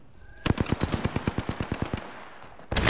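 Rapid automatic gunfire in the battle royale game Apex Legends, a loud burst of about fifteen evenly spaced shots lasting around a second and a half, followed by another shot starting at the end.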